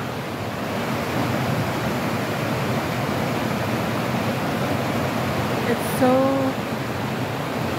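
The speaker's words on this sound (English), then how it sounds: "there's a fresh spring up there, and that's where all this water comes from." Water from a fresh mountain spring flows in a steady, close, even rush that lasts the whole stretch, with a brief high chirp near the end.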